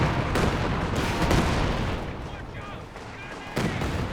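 Creeping barrage artillery fire in Company of Heroes 2 pounds continuously as dense overlapping booms and bursts, with sharp fresh impacts near the start and again toward the end, while a commentator talks over it.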